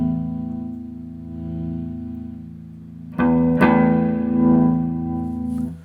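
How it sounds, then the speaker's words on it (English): An electric guitar plays through a LEKATO B-Breaker overdrive pedal set to high drive. A sustained distorted chord rings, then a louder strummed chord cuts in and rings with gritty overdrive until it is choked off. "not only is the drive increasing the amount of distortion, but it's also the volume as well"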